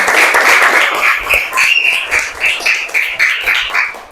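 Schoolchildren in a primary school classroom applauding together, a steady loud wash of clapping that pulses slightly and carries on for about four seconds.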